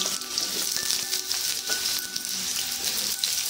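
Diced papaya and potato pieces, with a little turmeric and salt, sizzle in hot oil in a heated pan, producing a dense, continuous frying hiss with faint crackles, close and steady without talking.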